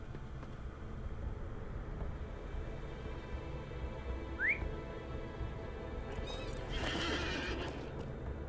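In the LOTRO video game, a horse whinnies once in a short rising call and its hooves clop against a steady ambient background, which swells briefly toward the end.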